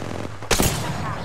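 Apex Legends gunfire erupts in a sudden loud burst of rapid shots midway, a close rattling volley over steady in-game background noise.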